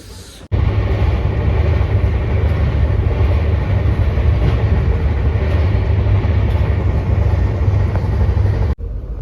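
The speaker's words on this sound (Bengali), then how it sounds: "তো ট্রেনের মধ্যে আমরা কেমনভাবে কেমনভাবে যাচ্ছি সেটা আমি দেখাবো।" Inside a moving passenger train from Howrah toward Prayagraj, a loud, continuous low rumble and rolling clatter fill the carriage without a break, with no voices.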